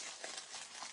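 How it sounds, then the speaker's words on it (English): Wax paper being crumpled into a small ball by hand, a dense continuous crackling and rustling with bursts of sharper crinkles, close and fairly loud, with no talk. "I'm going to crumple up"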